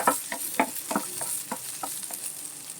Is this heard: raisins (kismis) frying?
yes